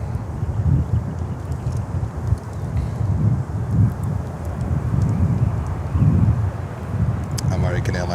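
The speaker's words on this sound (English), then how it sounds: "American Airlines 737." An American Airlines Boeing 737 jet passes at Miami airport as a steady, low engine roar that swells and eases, mixed with gusty wind buffeting on the microphone.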